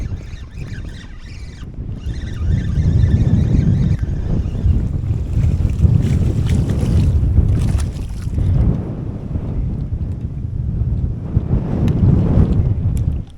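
Strong wind blows on the shore during striped bass fishing in a nor'easter, with a loud, continuous rumbling buffet across the microphone and gusts rising and falling throughout.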